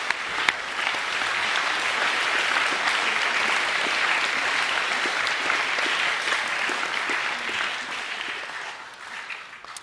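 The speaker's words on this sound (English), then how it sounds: "Can we give all of our winners a round of applause" Sustained applause from a school assembly audience for the winners, a dense steady patter of many hands clapping for about ten seconds before tapering off at the end.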